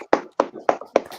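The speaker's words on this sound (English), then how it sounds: "Come on, let's give him a round of applause" Four crisp hand claps in a steady, even rhythm, close and fairly loud, with short silent gaps between them, like one or two people clapping rather than a full audience.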